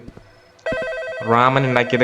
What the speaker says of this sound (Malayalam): ഇവിടെ ഇപ്പോൾ ഫോൺ റിങ് ചെയ്തുകൊണ്ടിരിക്കുന്നുണ്ട്